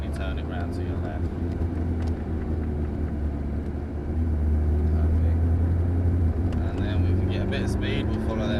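A McLaren MP4-12C engine drones steadily while driving at Dunsfold, swelling a little louder about midway as more power is applied, with a voice talking over it.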